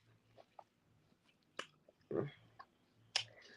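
Someone bites into an apple, giving a few faint, crisp crunches and chewing sounds close to the ear, with one stronger crunch in the middle, in a quiet room.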